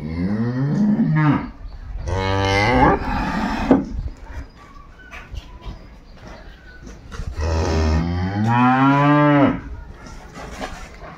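A dairy cow at a cattle market in Dinajpur lets out two long, loud, drawn-out moos close by, separated by a few seconds of quieter market noise.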